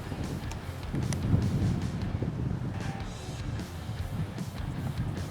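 Strong gusts buffet the microphone outdoors, a continuous low rumbling roar that swells and eases without pause, near and fairly loud, with no speech over it.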